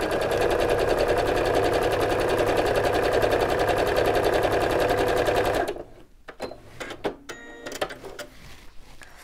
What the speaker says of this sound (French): Je pique bien sur le trait